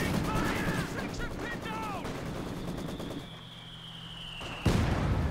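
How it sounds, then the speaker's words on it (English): Mortar shells land and explode on a building in the World War II strategy game Company of Heroes 2, with a dense stream of battle noise, gunfire and a sharp loud blast near the end, under occasional speech. "Oh, the mortar is landing on this building."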